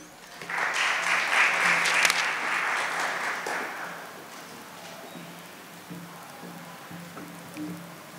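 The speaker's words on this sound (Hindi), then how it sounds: "आपकी तालियों के साथ।" Audience applause at the Kala Nirantar award ceremony, a broad hiss of clapping that swells for a couple of seconds then fades into quieter room noise.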